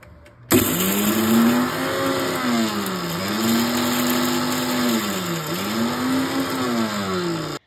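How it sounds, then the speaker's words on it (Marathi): An electric mixer grinder whirs through coriander, cumin, chaat masala and rock salt. The loud motor whine starts abruptly and runs steadily, its pitch dipping and rising in slow waves as the load shifts. "आता हे सर्व जिन्नस आपण मिक्सरमध्ये फिरवून घेऊ"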